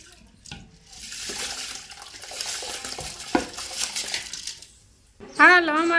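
Rice being washed in water by hand for a household celebration meal, with swishing and stirring splashes rising and falling, then a short pause before voices talk at the end.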